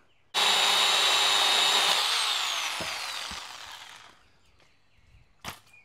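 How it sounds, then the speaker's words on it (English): A chain pole saw cuts through wood outdoors while a treehouse is being built, its loud buzzing whine starting abruptly, holding steady, then dropping in pitch and fading out over a few seconds, followed by a couple of sharp knocks. "a chain pole saw, which is probably not the best product for this, but it makes quick work of it"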